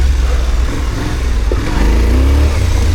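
An 800 DE motorcycle pulls away off-road in Brittany as the clutch is released, its engine rumbling loud and close, then revving up with a rising drone toward the end, with no talking.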